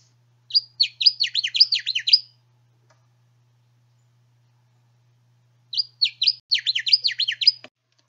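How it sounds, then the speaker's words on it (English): A Connecticut warbler sings two bursts of its snappy, rapidly repeated chirping phrases, each about a second and a half long and separated by a few seconds of silence, clear and fairly close. "our Connecticut warbler has the very snappy tipu tapu tipu tapu tipu"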